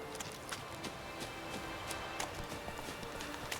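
Roach, a horse in The Witcher 3, gallops away with quick hoof clip-clops over a steady game background, moderately faint and fading.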